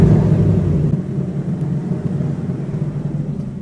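A 2024 Ford Mustang engine turns over and settles into a steady low idle after a remote-start command, its rumble close and continuous with no voices.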